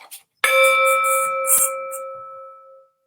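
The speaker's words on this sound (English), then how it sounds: "I'm going to ring my bell, and I'd like you to savor this experience." A hand bell is struck once and rings out clearly, its bright tone sustaining and slowly fading over a couple of seconds in a quiet room.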